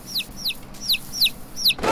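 Five bright, repeated high chirps from a young chick in the horror video game The Cursed Farm, evenly spaced and fairly close, followed by a short burst of noise at the end.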